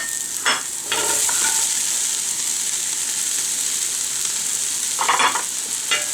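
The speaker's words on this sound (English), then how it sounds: "I'm going to go ahead and just add my garlic. And the carrots." Garlic and carrots sizzle steadily in a hot pot for a hearty turkey chili, with a few stirring scrapes near the start and end.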